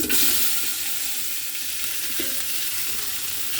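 Pre-fried khichuri rice pours into a pot for cooking with beef, setting off a hissing sizzle that starts strong and settles into a steady, moderate fry.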